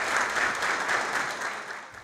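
Sustained applause fills a packed Joinville city council chamber as an honoree enters, a dense, steady wash of many hands clapping that eases slightly toward the end.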